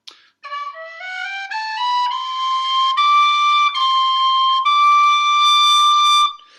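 Lir tin whistle playing a clear, bright rising run of notes that settles into sustained tones, including C natural, solo and close with no talk.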